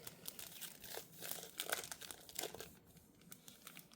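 Plastic packaging around craft stickers crinkles and crackles as it is opened, a quiet, close sequence of irregular rustling bursts with no voices.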